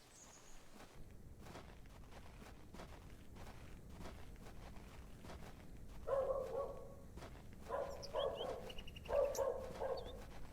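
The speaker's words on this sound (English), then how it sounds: "Even now you would hear like dogs barking in the neighborhood." Distant dogs barking in a neighborhood in the video game The Excavation of Hob's Barrow, a few short barks in three clusters over steady outdoor ambience with faint footsteps, quiet and far off.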